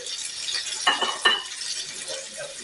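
Quiet, steady sizzle of chicken pieces browning in a pan for a French poulet au cidre, with two brief clinks of a utensil against the pan partway through.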